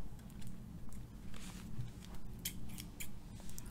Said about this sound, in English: Got my scissors and my comb.